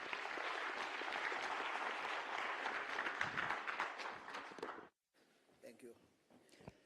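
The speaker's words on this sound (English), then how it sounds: "A round of applause for him, please." Applause from the audience at the official opening of Namibia's 4th National Skills Competition, greeting the board chairperson of the Namibia Training Authority; dense sustained clapping for about five seconds, then cut off, followed by a few scattered claps and faint voices.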